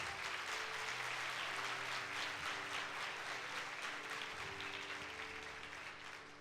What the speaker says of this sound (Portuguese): Então dá um aplauso ao Senhor.